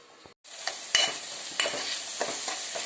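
Chili, turmeric, garam masala and pepper powders sautéing in oil for egg curry, a bright sizzle broken by a brief silence, then clear stirring scrapes and knocks.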